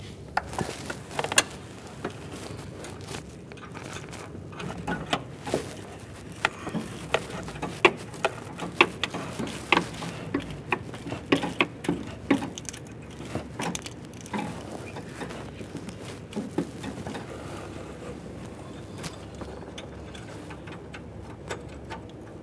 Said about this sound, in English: Go ahead and start turning this counterclockwise to remove the O2 sensor from that exhaust manifold.